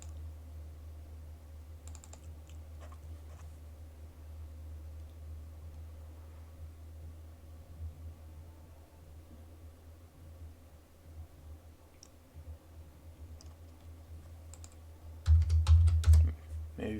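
A computer keyboard is typed on in a brief flurry of close clicks near the end, after a long stretch of quiet low room hum.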